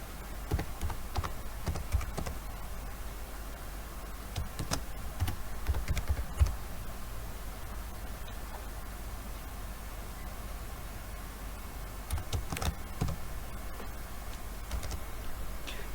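Username and password being typed on a computer keyboard, a close run of light irregular key clicks over about sixteen seconds with brief pauses, over a steady background hiss, with no talk.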